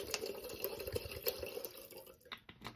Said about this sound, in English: Put some more bottled water in here.